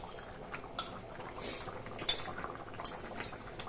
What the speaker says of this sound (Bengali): খুব সুন্দরভাবে টকবক করে ফুটছে।